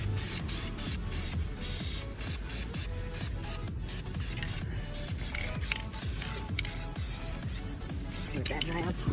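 An aerosol can sprays fluorescent yellow paint onto Brembo brake calipers, giving close, repeated hissing bursts in quick succession with brief gaps, under a busy background.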